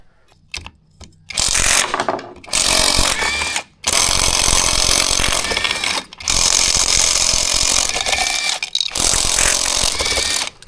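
A hand ratchet works on the engine head bolts of a blown-motor 2005 Honda CRF250R, making close, loud bursts of rapid clicking that stop and start with short pauses between strokes.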